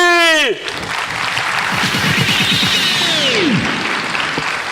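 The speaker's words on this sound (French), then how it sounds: "je vous prie d'applaudir très fort l'arrivée sur ce plateau de Monsieur Lefoni" A television studio audience breaks into loud applause as Monsieur Lefoni arrives on set, the clapping rising right after a voice finishes and continuing steadily under sliding musical or vocal tones.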